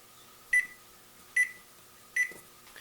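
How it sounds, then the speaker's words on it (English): Three short electronic beeps from an oven being set to preheat to 350, spaced evenly about a second apart, close and clear over a quiet background hum with no talk. "Let's preheat our oven to 350."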